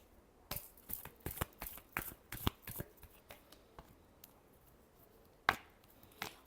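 Tarot cards are shuffled close up in a quiet room, giving a run of quick, crisp riffling slaps and flicks in irregular bursts with brief pauses between them.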